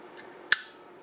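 A step relay clicks sharply as it advances one step, a crisp, bright mechanical snap close by, followed by a second click at the very end, with quiet hum between.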